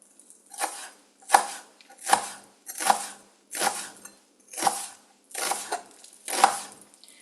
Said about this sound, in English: So I'm going to cut this into small pieces.